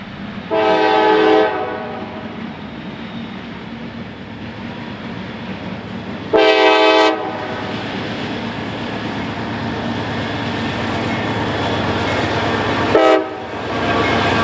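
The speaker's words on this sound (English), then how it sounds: "CSX train M501 began building their train out of Bar Yard and is now departing" A CSX freight train departs a rail yard, its loud horn blasting three times, first long, then another long blast, then a short one, over a steady rumble of rolling cars close by.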